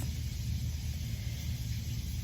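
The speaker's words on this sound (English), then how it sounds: "I'm frying catfish in the back." Catfish fries in a pan in a back room, giving a steady, faint hiss of sizzling oil with no breaks and no voices.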